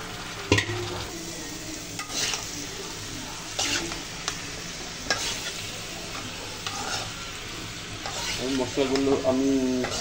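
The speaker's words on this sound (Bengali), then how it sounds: "মশলাগুলো আমি এইভাবে নেড়ে দিয়েছি যেন মশলাগুলো ভালো করে যেন এড হয়ে যায়" Spices of ground onion, garlic, ginger and turmeric stirred and frying in a pan, a steady close sizzle broken by repeated scraping strokes of the spoon, with a brief burst of clatter near the end.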